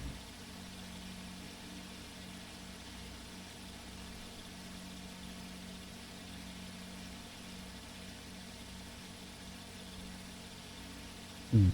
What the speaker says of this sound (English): We'll come back a little bit on the RPM here.